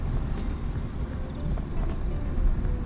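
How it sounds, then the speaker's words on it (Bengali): A car descends a steep mountain road between Ramdhura and Lamahatta on engine braking, producing a continuous low, rumbling drone with road noise heard from inside the vehicle, steady and fairly loud. "আমি পুরোটাই নামছি কিন্তু ইঞ্জিন ব্রেকে।"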